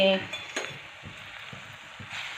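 Green chili paste (thecha) dropped into hot oil in a pan, a soft steady sizzle with a few metallic clinks of a spoon against the vessel.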